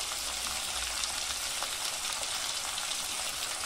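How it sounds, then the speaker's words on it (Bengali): Sliced onions with salt fry in hot oil over a spice tempering, giving a steady, even sizzle that holds close and constant without a break. "লবণ দিয়ে এখন পেঁয়াজটাকে এখানে আমি ভালো করে ভেজে নেব"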